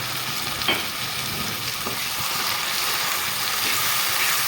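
Tomato, ginger, garlic and chilli paste frying with browned onions, a loud, continuous close-up sizzle with a few stirring scrapes and no voices.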